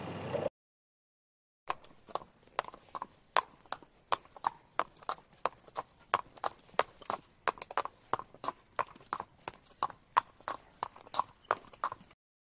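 Toy horse hooves clip-clop in a steady, evenly spaced series of sharp, close knocks, each separate and clear, in a Schleich toy horse film; a brief blip of other sound comes first, then silence before the hoofbeats start.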